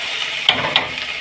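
Ginger garlic paste dropped into a hot pan, a steady bright sizzle with two short sharp crackles of spattering oil, close and alone without talk.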